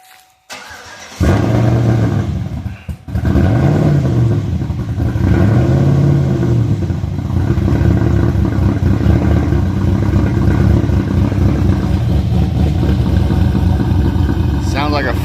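A cammed V8 in a Chevrolet Avalanche truck cranks and fires up loudly on a cold start, then settles into a rough, lopey idle with a few throttle blips, close by.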